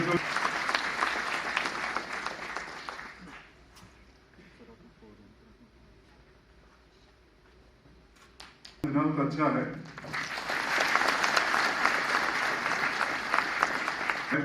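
Hall audience at a public ceremony clapping loudly at first, the applause fading to quiet before a brief spoken line, then swelling again into strong, sustained clapping.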